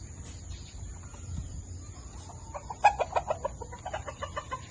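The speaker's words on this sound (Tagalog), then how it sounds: "Mga manok niya." Chickens cluck nearby, a soft run of short clucks building into a quick series over a low rumbling background.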